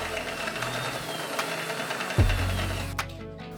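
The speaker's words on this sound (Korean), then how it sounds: "그리고 하나의 휠에 호스가 들어갈 수 있는 구멍을 한 개 뚫어줍니다" A power drill bores a hose hole through an old cart wheel, giving a close, steady motor whine that drops in pitch as the bit bites into the wheel.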